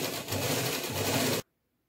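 Sewing machine stitching the lining of a kurti, a fast continuous mechanical whirr close by that stops abruptly into silence.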